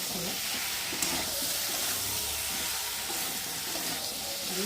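Spice paste frying in a very hot kadai for a Bengali fish curry with green banana, a steady broadband sizzle and hiss holding evenly throughout, close and continuous with no talking.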